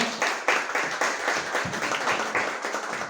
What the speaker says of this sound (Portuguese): Vamos receber com a salva de palmas, por favor.